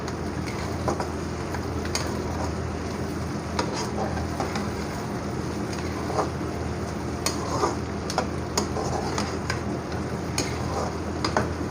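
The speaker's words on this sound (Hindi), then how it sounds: "और अच्छी तरह चम्मच चलाएंगे।" A spoon stirs onion and green chili in a pan for okra (bhindi) sabzi, giving steady scraping and soft clicks over a continuous low sizzle, fairly close and without speech.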